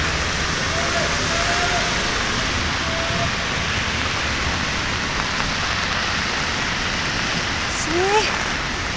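Steady rain falls outdoors in a dense, even hiss that lasts throughout, with faint voices in the background.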